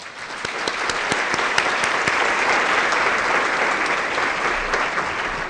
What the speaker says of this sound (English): How about another applause for them as well?